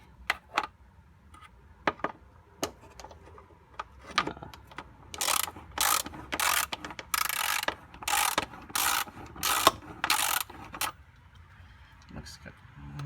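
A hand ratchet clicks rapidly in repeated bursts while loosening bolts on the drive shaft of a BMW E39, close and loud, with a few separate knocks and clanks before the ratcheting starts.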